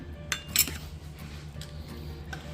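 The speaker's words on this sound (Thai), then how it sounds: "คือถ้าเขาออกมาจากเตาใหม่ๆแล้วตัดคือเสียงมันกรอบมาก" Knife slicing through a crispy, freshly baked homemade pizza from a portable oven, giving a couple of sharp crunchy cuts and clinks over a low steady background hum.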